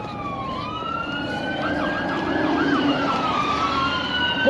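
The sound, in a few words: emergency vehicle sirens on a city street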